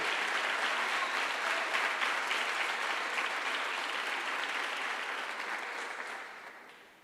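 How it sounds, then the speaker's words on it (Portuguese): A church congregation applauds in praise, a dense, steady wash of many hands clapping that holds for several seconds and then tapers off near the end. "Dê um aplauso ao Senhor."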